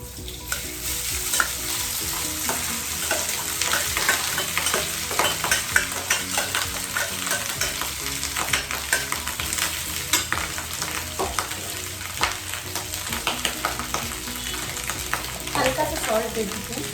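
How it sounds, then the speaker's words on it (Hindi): Rice tossed with hot cumin seeds in a pan gives off a steady, loud sizzle with frequent scraping stir strokes throughout and no talking. "तो जैसे कि जीरा गर्म हो गया है, मैं राइस डाल दूंगी।"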